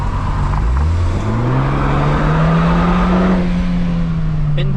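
A BMW F30 with a Euro Arts aftermarket exhaust drones steadily nearby, its deep exhaust note rising and falling gently as the revs shift, with a faint hiss behind it.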